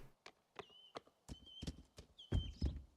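Horse hooves clip-clopping in the video game Rising World, a steady walking rhythm of about ten close, distinct hoof strikes that grow slightly heavier toward the end.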